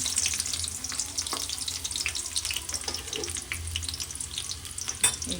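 Onion goes into about a tablespoon of oil in a pan for pepper chicken, giving a steady close sizzle and spatter with scattered stirring clicks and no speech.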